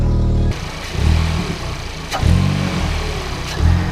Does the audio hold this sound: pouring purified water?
no